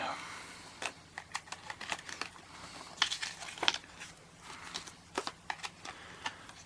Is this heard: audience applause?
no